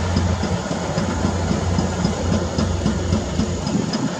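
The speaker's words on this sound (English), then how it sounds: "You see the train over there." A train rumbles past on tracks near a large Amazon warehouse facility, a steady continuous low rolling drone with faint rhythmic clatter, heard from a distance outdoors with no talking.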